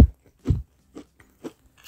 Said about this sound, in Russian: Слышно, как хрустит?